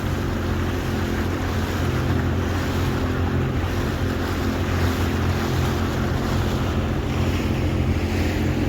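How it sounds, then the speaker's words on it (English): A fishing boat's engine rumbles steadily on open water in the Solent near Hillhead, Southampton, blended with constant wind buffeting and sea noise, with no break across the whole stretch. "Engine started, only had to look at the key and it started, so that's a good sign."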